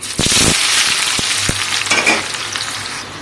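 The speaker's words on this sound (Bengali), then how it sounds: "তো পেঁয়াজগুলো ফ্রাই করে নেব।" Onions sizzle loudly in hot white oil for a chicken biryani, a close, steady frying hiss punctuated by a few sharp stirring clicks.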